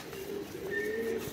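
A pigeon from Prem Bagan coos close by in a steady low droning call, clear and alone with no talk.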